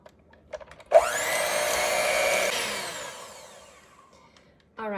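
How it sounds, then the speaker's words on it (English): A blender whirs up with a sharp start, running a rising, steady high-pitched motor whine for about two seconds while mixing no-bake key lime dessert filling, then winding down and fading, with small clunks before and after. "I'm gonna give this a blend"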